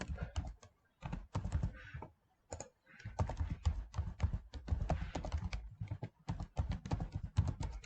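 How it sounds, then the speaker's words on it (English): Fingers type rapidly on a computer keyboard, dense bursts of close clicking keystrokes broken by short pauses, with nobody talking over them. "here I will type"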